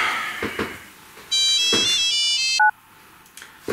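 A phone ringtone rings from inside a swallowed Spinosaurus, a loud electronic melodic trill lasting over a second, ending with two brief beeps, with other faint sounds before and after.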